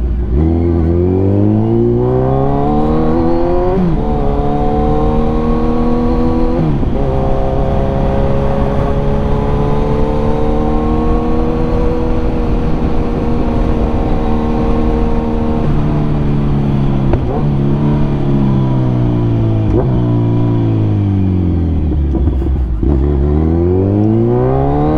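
A Kawasaki Ninja 1000 motorcycle accelerates hard through several gears, its wheel lifting, a loud, close engine howl rising in pitch with drops at each shift, then easing off and climbing again.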